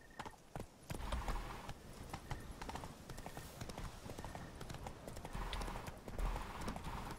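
Roach, Geralt's horse in Witcher 3: Blood and Wine, clip-clops along in a steady run of close, clear hoofbeats, with game ambience underneath and no speech.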